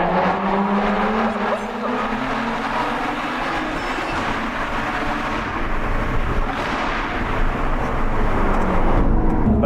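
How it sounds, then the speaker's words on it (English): Lotus Evora 400 with a supercharged Toyota V6 running loudly and steadily, engine roar sustained throughout with faint crackling pops over the exhaust. "first, the air pops like a champagne cork flying out of a bottle"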